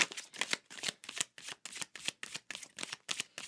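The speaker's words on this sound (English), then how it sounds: "But we'll pick out a goddess card." A goddess oracle deck is shuffled close up, a rapid run of about a dozen evenly spaced crisp card riffles and slaps with no talking.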